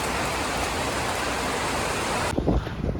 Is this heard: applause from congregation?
no